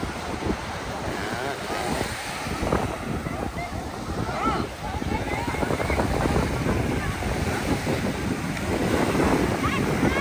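Sea waves wash in continuously at Thuan An beach near Hue, with heavy wind buffeting the microphone and the surf rising and falling throughout.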